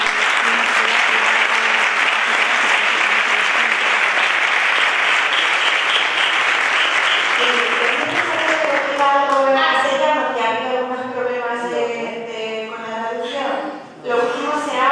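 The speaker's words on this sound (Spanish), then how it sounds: "un aplauso a la organización" A crowd at an event applauds the organisers with loud, sustained clapping that fills the first half, then fades as a voice begins speaking over the last of the claps.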